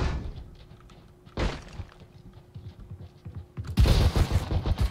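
Pistol fire in Valorant arrives as sharp, close shots: one sudden crack, then a dense flurry of rapid shots near the end over game sound effects.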